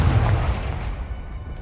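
A Confringo fire-blast spell from Hogwarts Legacy detonates in a heavy, rumbling explosion, close and loud, with a deep roar that lingers and slowly thins out with no voices over it.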